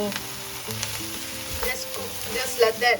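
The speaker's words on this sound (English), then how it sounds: "just mix that all through and let the kale cook down" Kale and dhal cooking in a pan as they are stirred, a close sizzle with a few scraping spoon strokes and short bubbling crackles that grow louder near the end.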